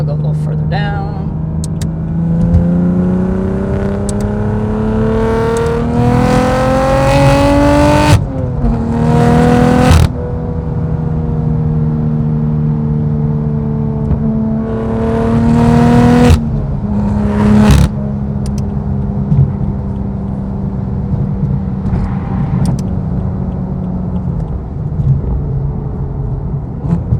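BMW M4 with S55 engine and Active Autowerke exhaust, revving in short loud bursts over a steady rumbling drone, close up, with people talking over parts of it.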